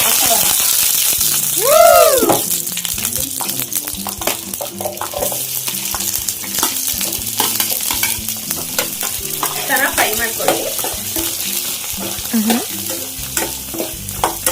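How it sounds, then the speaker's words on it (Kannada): Onion and capsicum fry in a pan for a chicken gravy, a steady close sizzle with spoon scrapes and stirring throughout and a few brief clinks, while someone talks over it now and then. "ಈರುಳ್ಳಿ ಕ್ಯಾಪ್ಸಿಕಮ್ಮು ನೀಟಾಗಿ ಫ್ರೈ ಆಯ್ತಲ್ವಾ"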